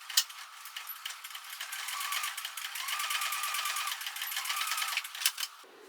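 A sewing machine stitches straight across the front and two side flaps of a cell phone crossbody bag, a fast continuous mechanical whir with dense rapid needle clatter running steadily for several seconds before stopping near the end.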